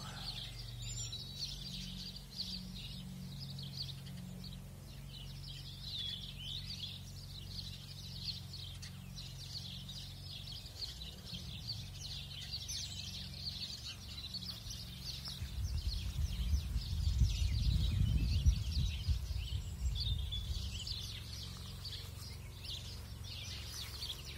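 Birds sing outdoors in a continuous, fairly faint chorus of high chirps and tweets, with a low rumble rising briefly near the end and no voices.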